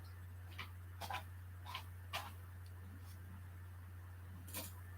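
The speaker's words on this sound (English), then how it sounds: "I'm bringing my puppy, guys." A puppy gives a series of short, faint whimpers and squeaks at irregular intervals over a constant low electrical hum, fairly close but quiet.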